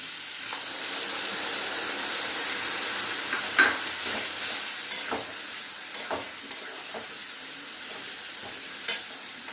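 Papaya cooks in a pan as a paste of poppy seeds and green chili is added. A steady close sizzle runs throughout, broken by occasional scraping and tapping of a spoon as it is stirred.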